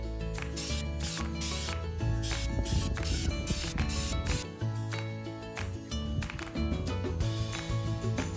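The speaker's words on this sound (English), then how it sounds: "final step is to apply a coating of rubberized undercoating" Rubberized undercoating sprayed onto an RV wheel well, heard as loud hissing spray bursts close by that start and stop repeatedly over a steady mechanical hum.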